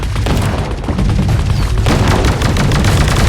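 MK14 rifle fire in the Sausage Man video game: dense, loud bursts of gunfire with booming reports running continuously through the whole stretch, no voices.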